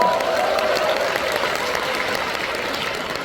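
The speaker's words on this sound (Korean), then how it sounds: "박수 한번 부탁드릴게요." Fans at a singer's fan meeting in a hall give a loud, dense round of applause that fades slowly over about three seconds, with crowd murmur underneath.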